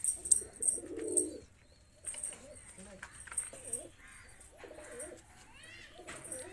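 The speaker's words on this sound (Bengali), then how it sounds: "এই আবলুক দোবাজ পায়রাগুলো সত্যি অসাধারণ" Giribaz flying pigeons in Murshidabad coo softly in a few low, repeated bursts, mixed with faint chirps and a voice speaking nearby.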